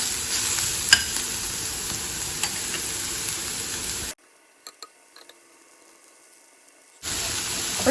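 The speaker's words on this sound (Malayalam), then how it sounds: "ഇനി നമുക്ക് അരിഞ്ഞ് വെച്ചിരിക്കുന്ന കാബേജും കാരറ്റും കൂടെ ഇട്ട് കൊടുക്കാം." Chopped cabbage and carrot sizzle and hiss steadily as they stir-fry in a pan, loud and close with occasional scraping stirs, cut by a roughly three-second near-silent gap before the frying resumes.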